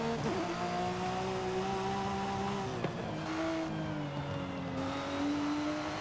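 A Porsche Cayman GT4 RS race car engine in Forza Horizon 5, heard from the interior, holds a steady, high-pitched transmission whine, its tone dipping briefly then settling, loud and continuous with no talking.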